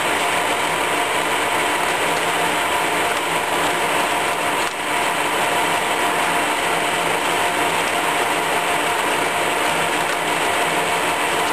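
Colchester Mascot lathe feed gearbox running steadily with its feed and threading shafts turning, a dense continuous mechanical whir with a faint ratcheting beat, close and loud throughout.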